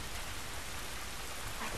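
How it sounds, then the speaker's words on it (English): Steady hiss of rain drumming on a roof in the video game The Last of Us, a dense, even wash of patter with no other sounds. "the rain on the roof. That's a nice touch."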